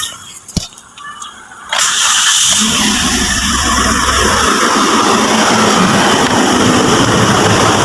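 A Toyota Vios with a dual VVT-i engine cranks with a few sharp clicks, then catches and settles into a loud, steady idle that runs on continuously close to the listener.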